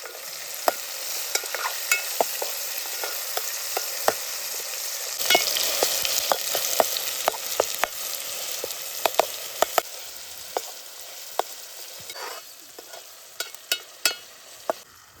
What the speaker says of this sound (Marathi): मस्त पहिला कांदा आहे ना, मस्त इकडे बघा फ्राय होतोय जबरदस्त